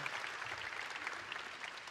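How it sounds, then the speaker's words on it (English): Faint, distant audience applause at a deep tech summit, a brief soft patter of many hands clapping, steady and quiet throughout. "You deserve a round of applause."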